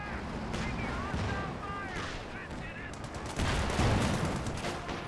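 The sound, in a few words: incoming artillery and gunfire in video game Company of Heroes 2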